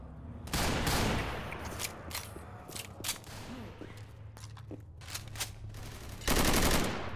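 In Left 4 Dead 2, an M4 rifle fires loud, close automatic bursts, a sustained burst at the start and another at the end with scattered shots and game noise between.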